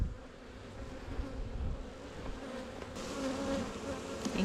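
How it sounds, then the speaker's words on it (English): Bees buzzing around an open hive during a bee yard inspection, a steady close, overlapping drone of many insects with no talking. "the bees will be all over it, snacking on it"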